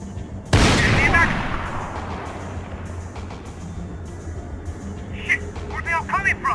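A loud sharp gunshot booms and rings out in a Max Payne game cutscene, followed by fainter scattered shots and clatter while voices talk.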